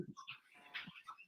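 Dogs whimper and yip faintly in the background, a few short, soft, high-pitched cries spread across a brief moment with no talking.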